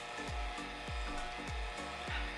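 A large drill bit grinds through a rivet head down to the sheet metal, a steady whining drone broken by repeated rhythmic dips as the bit bites, close and loud without speech.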